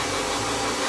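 An Italian-made twin turbo blow dryer runs steadily at close range, a dense, even airy roar with no pauses.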